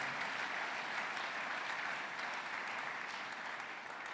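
A church congregation applauds steadily, a dense wash of clapping that stays full and even throughout, with no voices standing out.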